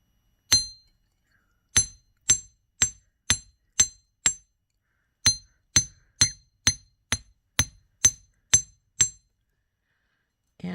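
Metal hammer striking wire earring components on a hard block, about sixteen sharp ringing taps in two spaced runs, clear and close with silence between blows.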